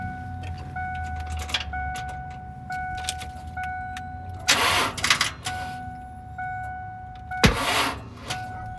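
A 1997 Cobra Mustang engine cranks and catches in two brief bursts amid quieter clicks and ticks, with a steady tone running underneath.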